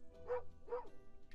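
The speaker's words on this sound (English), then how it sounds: "Is that a dog?" A dog barks twice in the video game Moonlighter, two short quiet yips about half a second apart.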